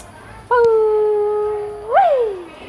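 A dog howls close and loud, one long sustained note followed by a rising and falling second howl, with no talk over it.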